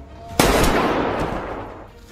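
A single loud, sharp gunshot-like bang cracks out close by during a Squid Game role-play, then fades through a long, decaying echo.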